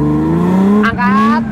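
A car engine revs up during drifting practice, its note climbing steadily and loudly close by, with a brief dip near the end.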